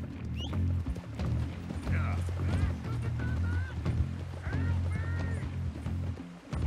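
Horse galloping in the video game Red Dead Redemption 2, rhythmic hoofbeats with creaking tack and short whinnies, heard under people talking.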